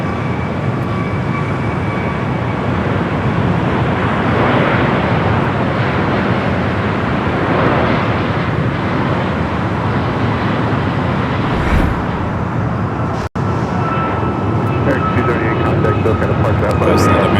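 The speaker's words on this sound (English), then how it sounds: "It's a good looking Dreamliner, isn't it? Yeah, coming in hot." A Boeing 787 Dreamliner airliner comes in to land at Los Angeles airport, a loud, steady roar of jet engines sustained throughout, with a brief dropout partway through.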